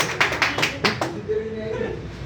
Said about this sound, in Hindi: एक बार मनीषा के लिए भी जोरदार तालियां बजा दो